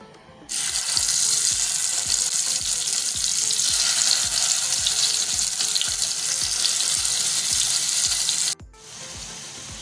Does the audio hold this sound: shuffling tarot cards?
no